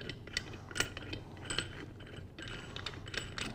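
Cover bolts being tightened on a Cla-Val 100-01 Hytrol main valve during a rebuild: faint, close metallic clicks and ratcheting ticks scattered over a low background hum, with no talking.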